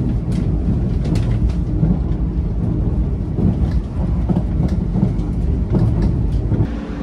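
A loud, continuous rumble of a Yakumo 381 series limited express train rolling on rails, with rhythmic clatter and creaks running steadily throughout.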